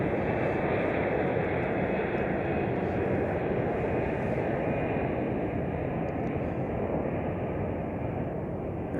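Aircraft moving about Chicago O'Hare airport, a steady broad roar of jet engines rumbling in the background, even and unbroken throughout.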